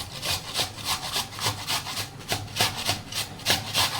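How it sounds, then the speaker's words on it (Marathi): Onion being grated on a hand grater while preparing chole masala, a close, steady rasping scrape repeating in regular strokes about twice a second. "आता मी कांदे कट न करता किसणीने किसून घेणार आहे, की जेणेकरून ते व्यवस्थित बारीक होतील"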